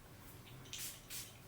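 Byredo Bal d'Afrique perfume bottle sprayed twice, two quick soft hissing spritzes close by in a quiet room.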